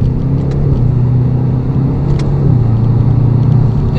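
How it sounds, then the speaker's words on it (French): A Jaguar car with a ZF automatic gearbox runs at a steady, loud engine drone, the tone rising and dropping slightly as it shifts through gears. "ZF, probablement l'une des meilleures boîtes du marché actuellement, avec un passage de vitesse instantané."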